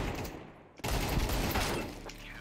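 Shotgun fire in Counter-Strike 2, one loud blast followed by a sustained, heavy burst of booming gunfire, close and dense.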